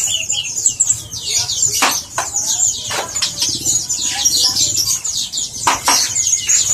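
A caught bird flaps its wings in a loud, close, continuous flurry of rustling beats, with brief chirps and a busy background of other birds.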